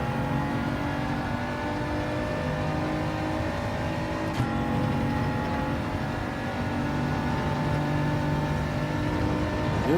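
Race car engine in Gran Turismo 7 at Spa, droning steadily and loudly with shifting tones across the gears, no voices over it.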